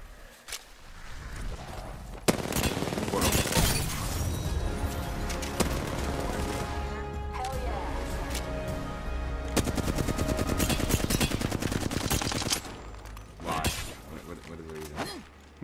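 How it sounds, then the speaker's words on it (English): Rapid bursts of gunfire from the Apex Legends battle royale on the World's Edge map, dense and loud throughout with sharp repeated shots, a brief lull near the end, and game voice lines mixed in. "Opening fire."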